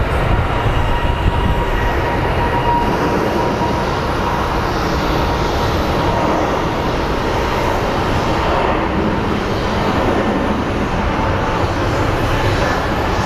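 An airliner in Island Fox livery departs Phoenix Sky Harbor, its engines a broad, steady roar that holds throughout without pause.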